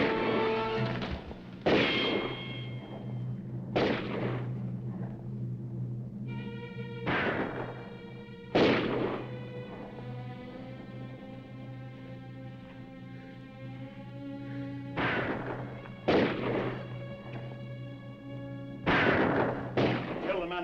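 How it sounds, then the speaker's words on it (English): Gunshots ring out in a shootout in a 1950 western film, a series of loud booming reports spread irregularly over dialogue and a sustained musical score. "Keep shooting. That's all we can do."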